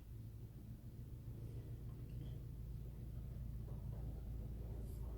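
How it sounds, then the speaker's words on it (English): A truck runs in a residential driveway, heard indoors as a faint, constant low rumble that holds steady throughout. "I have a truck in my driveway."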